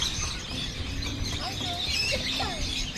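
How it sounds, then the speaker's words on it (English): Birds at Sea Life Park in Hawaii give a few faint, brief chirps amid a busy, noisy crowd background. "there's a bird down there"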